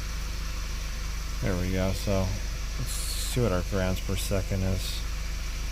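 A 2011 Audi A3 2.0T turbo engine idling with a cylinder 3 misfire and random misfires: a steady low rumble running continuously beneath someone speaking close by.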